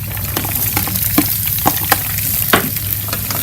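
Chopped onion and garlic sauté in hot oil for pancit bihon, a steady close sizzle broken by several sharp scraping stirs of a utensil against the pan.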